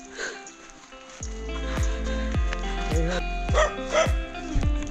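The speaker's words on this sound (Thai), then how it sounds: "หมาเห่าค่ะ" Dogs barking on a mountain trail run in Thailand, a rapid series of loud close barks and yips repeating roughly every half second, with faint voices in the background.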